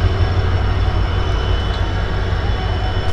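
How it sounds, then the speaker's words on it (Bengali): Passenger train pulling out of platform 19 at Howrah and rolling along, a steady loud low rumble with constant broadband wheel and track noise throughout, no talking. "একদম রাইট টাইমে ট্রেন ছেড়ে দিয়েছে হাওড়ার 19 নম্বর প্ল্যাটফর্ম থেকে"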